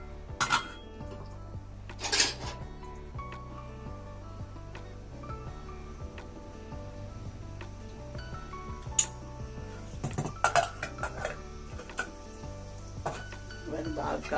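Gavvalu dough of flour, water and ghee being mixed by hand in a bowl, with soft scraping and occasional sharp clinks of utensils against the dish, over a low steady background hum.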